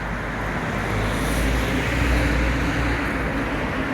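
A car passes on a nearby road, a continuous close roar of tyres and engine that swells slightly in the middle and stays loud throughout.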